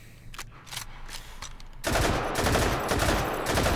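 An RPD light machine gun fired in the video game Hot Dogs, Horseshoes and Hand Grenades: a few separated single shots, then a sudden loud continuous burst of rapid automatic fire that carries on to the end.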